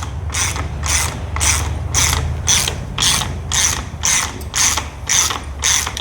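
A ratchet works loose the harmonic balancer bolt on a Ford Ranger 4.0 OHV, giving about a dozen evenly spaced bursts of rapid clicking, close and clear over a low background hum.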